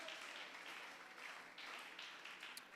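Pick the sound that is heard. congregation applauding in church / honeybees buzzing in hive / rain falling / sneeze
congregation applauding in church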